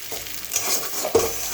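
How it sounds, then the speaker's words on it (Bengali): Whole spices fry and sizzle in hot oil in a pan while being stirred, a close crackling hiss broken by a few scraping strokes of the spoon. "মশলাটা প্রায় ভাজা হয়ে এসছে।"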